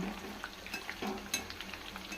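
Kabab coated in red chili paste fries in a pan, giving a continuous soft sizzle with small crackles and pops, heard close and without talk.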